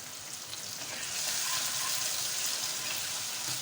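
Cumin, curry leaves and ginger-garlic paste fry in hot oil with a splash of water, giving a loud, dense, continuous sizzle close by with no talking.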